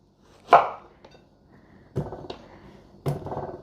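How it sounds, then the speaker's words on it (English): Three sharp knife chops through softened, peeled butternut squash on a cutting board, spaced about a second or more apart, each a crisp thud with a short scrape after. "I'm just chopping it up into, you know, chunks"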